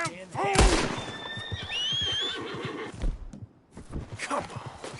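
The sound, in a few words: horse neighing in Red Dead Redemption 2 video game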